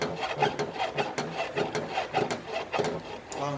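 The front shock absorber of a Mercedes-Benz E200 W211 creaks as the car body is pressed down, giving a series of rhythmic rubbing, woody squeaks close by with no talking.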